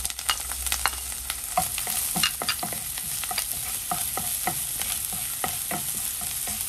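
Garlic and onion fry in a pan for chicken adobo with coconut milk, a steady close sizzle broken by frequent scraping stirs and clicks of the utensil against the pan, with no voices.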